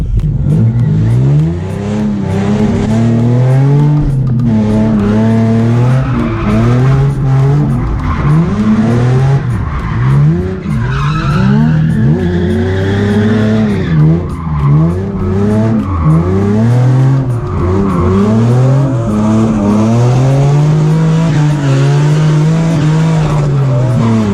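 A drift car's 1JZ-swapped Nissan 350Z engine revs and drones loudly, pitch rising and falling with acceleration, with occasional tire squeal; no talking.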